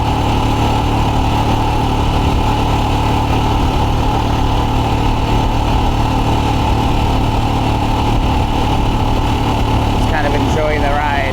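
Royal Enfield Scram 411 motorcycle ridden on gravel, its steady mid-pitched engine drone loud and continuous throughout, mixed with constant wind and road rumble close to the microphone.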